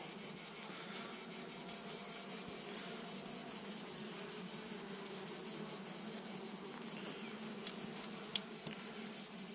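A swarm of honey bees hums steadily and high pitched, close and continuous, with no voices and only a couple of faint clicks near the end.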